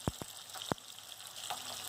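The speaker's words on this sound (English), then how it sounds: "our oil is too hot and our fish is frying from one side" Fish frying in oil that is too hot for a masala fish curry, giving a steady faint sizzle with a few sharp pops and crackles near the start.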